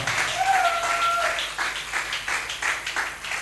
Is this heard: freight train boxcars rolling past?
no